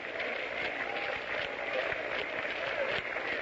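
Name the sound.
half-hearted hand clapping of baseball crowd in 1930s radio broadcast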